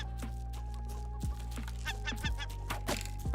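Bird clucking and squawking in the survival video game Raft, a few sharp calls over a steady low game hum, moderately loud and close.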